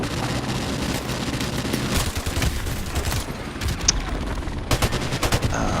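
Sustained M60 machine-gun fire in Call of Duty 4 Remastered, a dense continuous rattle of rapid shots with a few louder bursts standing out, no talking over it.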